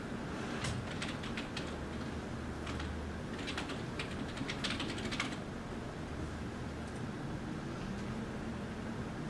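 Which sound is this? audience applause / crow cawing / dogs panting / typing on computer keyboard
typing on computer keyboard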